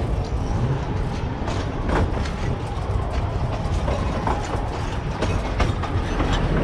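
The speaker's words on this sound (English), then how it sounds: "At midnight, the train arrives at Muratkovo station." Narrow-gauge railway train rolling into Muratkovo station at midnight, a continuous rumble of wheels with rattling clicks and clanks of the cars, steady and fairly close, with faint voices in the background.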